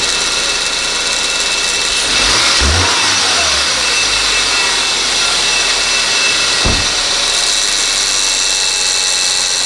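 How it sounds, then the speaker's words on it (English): A 2014 Subaru Forester engine idling loudly, with a noisy A/C compressor whine over it, then briefly revved twice, around a third and two thirds of the way through, each rev rising and falling back to idle. "Maybe if I will rev the engine."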